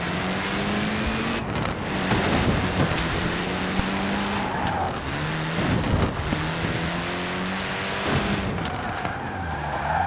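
An engine-swapped car in Forza Horizon 4 revs hard, with repeated gear shifts and rising pitch, and its tires squeal and skid throughout. The engine is loud and close, with no talking.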